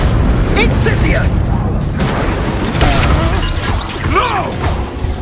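An incendiary fire spell blasts in the Hogwarts Legacy video game, heard as loud crashing, booming impacts over dense battle noise while voices talk throughout.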